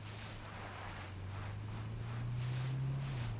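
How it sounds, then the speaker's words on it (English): A vehicle drives nearby in PUBG: a faint, steady engine drone with a slowly rising pitch, holding continuously and growing slightly louder toward the end, with no talk over it. "I hear someone driving."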